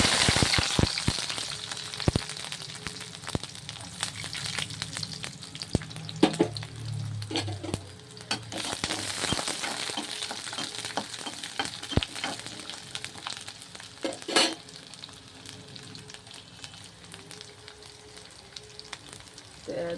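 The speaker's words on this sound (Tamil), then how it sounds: "எண்ணெய் காஞ்சிட்டு ரெண்டு மூணு பூண்டு உரிச்சு வச்சுருக்கேன் அதை கொட்டிக்கிறேன்" Two or three peeled garlic cloves frying in hot oil for vallarai thuvaiyal, a steady crackling sizzle with scattered pops and occasional stirring scrapes, close and fairly loud, no voices.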